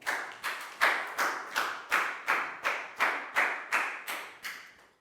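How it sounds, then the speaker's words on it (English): Students in a classroom clapping a round of applause in a slow, even rhythm, about a dozen sharp distinct claps each fading quickly, close and clear with no talk over them. "Big round of applause for Bang Bong."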